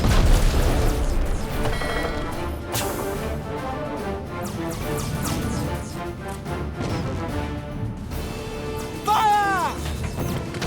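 Ship cannons boom in the Treasure Planet space battle game, repeated heavy blasts and crashes layered over game music and effects, with voices shouting commands in between.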